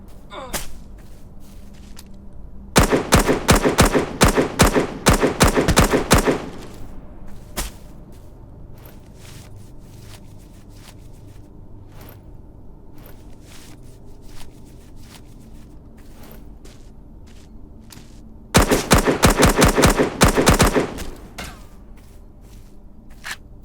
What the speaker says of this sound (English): Just have to take shots at him